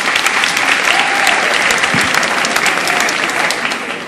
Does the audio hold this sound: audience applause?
yes